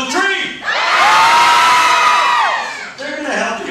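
A theme-park audience screams together on cue, a loud sustained roar of many voices lasting about two seconds, framed by a single person's voice talking before and after.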